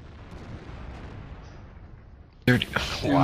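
A World of Tanks tank gun fires with a sudden loud boom after a stretch of low rumbling battle ambience, followed by a crackling tail and excited voices talking over it.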